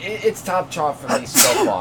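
A single sharp sneeze bursts out over someone talking during a discussion of the E3 2018 Microsoft conference. It is brief and loud, right in the middle of the speech.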